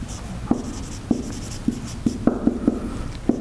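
Pen or chalk writing during a university lecture: close scratchy strokes with small taps at irregular intervals over a steady room hum, and no speech.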